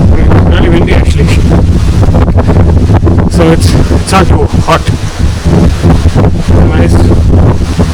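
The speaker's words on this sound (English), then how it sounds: "You can see behind me, it's quite breezy. It's really windy actually." Strong wind buffets the microphone at a lakeside hilltop near Doddaballapur, a constant loud rumbling roar with gusty surges, as someone talks over it.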